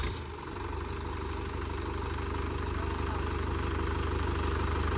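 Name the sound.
tractor engine started and idling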